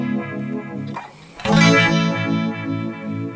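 Electric guitar chords through a univibe effect ring out with a swirling, pulsing modulation that makes the tone waver and throb, a brief pause separating two strummed passages.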